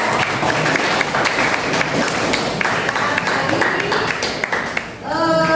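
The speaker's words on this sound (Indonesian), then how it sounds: "tepuk tangan untuk semua peserta" Participants in an Indonesian-language teacher training session applaud together in a lively, sustained round of clapping, and a voice speaks briefly as it fades at the end.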